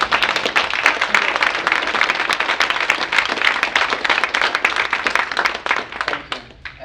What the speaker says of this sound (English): Dana deserves a round of applause.